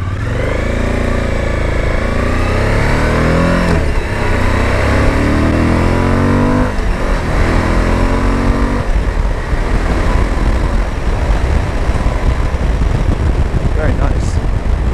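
A Suzuki V-Strom 1050 motorcycle pulls away in first gear, its engine rising in pitch as it accelerates and then fading into wind noise, loud and close.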